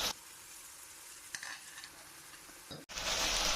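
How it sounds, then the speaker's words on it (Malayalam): Chicken curry sizzles softly in a pan on full flame, a faint steady fry punctuated by a couple of spoon scrapes, then a brief dip before a louder, brighter hiss as the lid comes off and stirring begins. "ഇതൊന്ന് തുറന്നിട്ട് ഒന്ന് ഇളക്കി കൊടുക്കാം"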